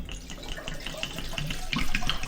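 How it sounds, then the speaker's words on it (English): A litre of cheap gin pours from a bottle onto sloes and sugar, a continuous gurgling liquid splash heard up close for a couple of seconds with no talking. "And then to that I add an entire 1 litre bottle of gin."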